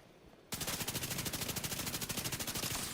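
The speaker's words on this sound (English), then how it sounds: "Putting bullets downrange." Rapid automatic gunfire in the video game Division 2 bursts in after a short quiet start and then runs as a continuous, loud, evenly spaced stream of shots.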